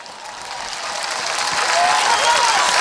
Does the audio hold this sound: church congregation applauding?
yes